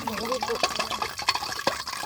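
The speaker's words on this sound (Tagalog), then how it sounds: "Nakasahod ng tubig." Heavy rainwater splashes and pours into a container in windy weather, with uneven drips and gurgling, while voices talk over it.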